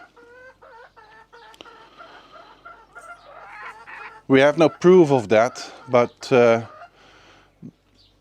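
Chickens cluck softly in short repeated calls nearby, then a person talks loudly over them.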